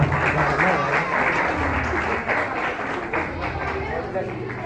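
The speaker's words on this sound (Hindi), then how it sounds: "जोरदार तालियां बजाइएगा।" Enthusiastic applause from a church congregation at a gift presentation, a dense crowd clapping throughout, with voices in the crowd mixed in.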